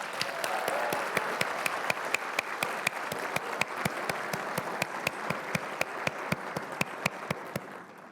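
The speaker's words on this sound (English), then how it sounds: "let's give everyone who participated in March on the Hill a big round of applause" An audience at a cystic fibrosis advocacy conference opening session applauds the March on the Hill participants, a steady wash of clapping with sharp individual claps standing out, sustained for several seconds before tapering slightly.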